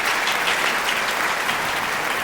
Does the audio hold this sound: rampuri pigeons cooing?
no